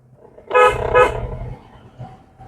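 A car horn toots twice in quick succession, loud and close, during a driving lesson on the road, with faint engine rumble underneath.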